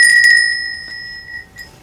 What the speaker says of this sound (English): I just want to ring my little non bell.